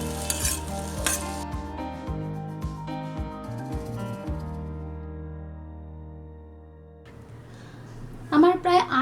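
Taro and prawns sizzle in a pan while a spoon scrapes and stirs them in a few clattering strokes, the frying fading as the stirring stops, with a voice talking over parts of it.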